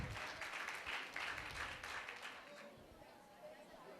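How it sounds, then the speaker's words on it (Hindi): Audience clapping at a debate competition, a Vad Vivad Spardha held during a Mahesh Navmi program. Soft, distant-sounding applause blends with crowd chatter and fades to lighter murmuring. "कृपया तालियां बजाएं ताकि उत्साह बना रहे।"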